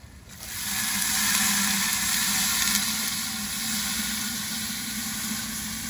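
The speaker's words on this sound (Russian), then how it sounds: "Заливаем водой." Water pours and rushes steadily over meat in an Afghan cauldron, a close, continuous splashing hiss that holds for several seconds.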